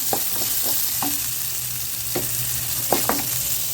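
A steady sizzle of coconut sautéing in a pan, with several scraping stirs of a spoon at irregular intervals, close and without voices.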